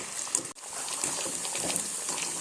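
Potatoes cut for French fries deep-fry in hot oil during their first short fry, giving a steady close hiss and crackle of bubbling oil with a brief dip partway through.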